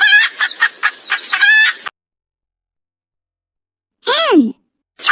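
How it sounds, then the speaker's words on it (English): A hen clucks in a rapid run of loud, close, choppy calls lasting about two seconds, followed after a pause by a short spoken voice. "Hen."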